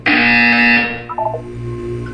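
A loud, harsh electronic buzzer in the video game Portal 2 blares for just under a second, followed by a few faint blips and quiet background hum.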